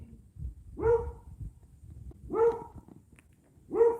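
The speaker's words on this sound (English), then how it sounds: "sorry about the dog. He barks at cows and everything else out here." A dog outdoors on a rural property with cows: three loud, deep barks spaced about a second and a half apart, fairly close, with no talking over them.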